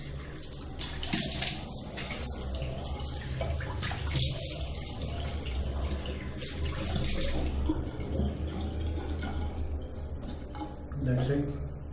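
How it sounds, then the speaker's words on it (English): A razor is rinsed under running cold tap water at a sink, a steady splashing flow with occasional clinks and drips over a soft, continuous water hiss. "So I'm just going to wash with cold water itself"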